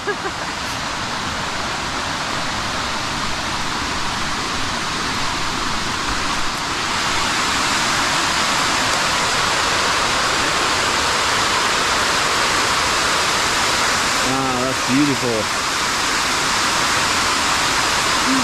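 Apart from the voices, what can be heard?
water cascading down falls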